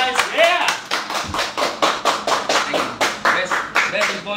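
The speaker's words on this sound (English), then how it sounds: "We should give it a round of applause." Smoke shop employees clap together at close range, a loud rhythmic run of sharp, evenly spaced claps with voices talking over them.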